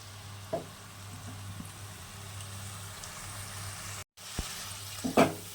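Small bhola fish in a poppy-seed paste with turmeric, salt and water simmer quietly in a pan, a low steady bubbling hiss broken by a few soft knocks and a brief clatter near the end.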